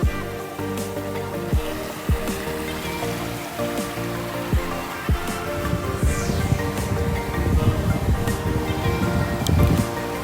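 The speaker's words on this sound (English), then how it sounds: "So we've got these logs built into this waterfall." Water pours steadily over a waterfall built with elm logs, a continuous rushing and splashing wash close by, with a few louder splashes and knocks along the way.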